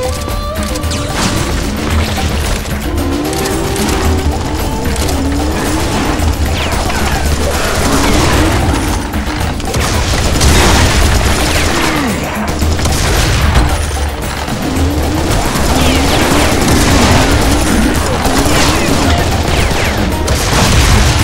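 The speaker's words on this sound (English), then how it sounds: "Do you have to blow everything up?" Serious Sam 3 game combat rumbles continuously: heavy booms, crashing blasts and rapid gunfire stack into a dense, loud barrage for about twenty seconds, with no clear speech over it.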